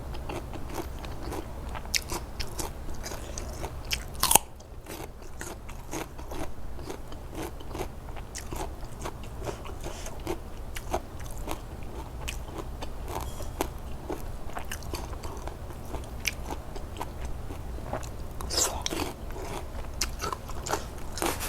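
Someone bites and chews crispy pork belly close to the mic, making repeated crunching snaps in an uneven rhythm with a louder crack early on. No voices are heard.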